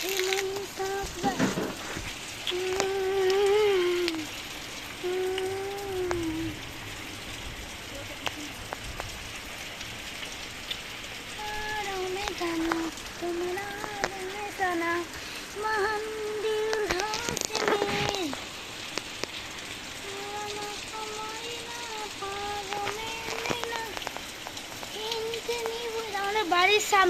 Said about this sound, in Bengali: আর একটু বৃষ্টি আবার বাড়লো, এখন কমার থেকে তো বাড়ছে বেশি